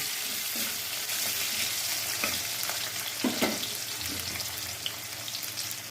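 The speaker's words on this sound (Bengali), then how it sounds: "এবার আমি পেঁয়াজগুলো দিয়ে নেব আর কাঁচা লঙ্কাগুলো দিয়ে নেব।" Onions and green chillies fry with lightly fried potatoes in a pan of hot oil, giving a continuous sizzle broken by a few soft scrapes and knocks of stirring.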